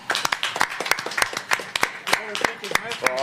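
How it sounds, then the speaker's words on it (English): Scattered claps come in sharp, uneven bursts through most of the clip, with a voice talking over them, apparently after a night of Matchroom boxing with Anthony Joshua and Andy Ruiz. "we got to give Mr. Eddie Hearn and Matchroom a round of applause for tonight"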